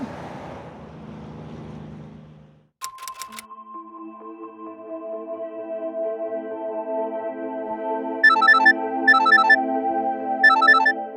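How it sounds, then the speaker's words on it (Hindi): A phone ringtone plays on and on, a steady melodic tone with repeated bright chirping bursts near the end, preceded by a brief noisy stretch and a sharp click; moderately loud, no voices. "अरे बार बार कितनी बार फोन करेगा यार?"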